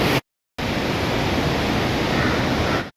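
The Yamuna river rushing at Yamunotri in the mountains, a loud, steady roar of fast-flowing water that cuts out briefly at the start and then fills the rest unbroken, with no voices.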